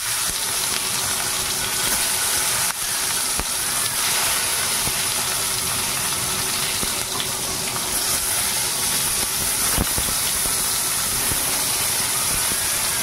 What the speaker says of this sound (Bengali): বেগুন ভাজাটা করে নিই এখন